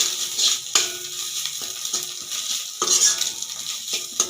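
Spiced egg noodles stirred and tossed in a frying pan, with a steady sizzle under repeated scraping and clinking of a utensil against the metal, close and fairly loud, no voices.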